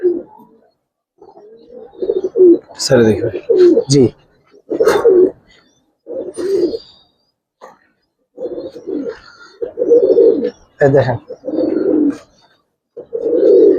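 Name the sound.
pigeons cooing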